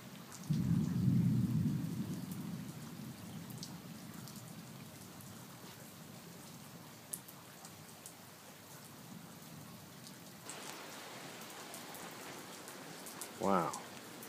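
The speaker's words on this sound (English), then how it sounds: "And just lightning and thunder all night." A nighttime thunderstorm with heavy rain at a Maldives island resort: a low thunder rumble rolls at the start, then steady rain hiss continues throughout, soft and distant overall, with a brief rumble near the end.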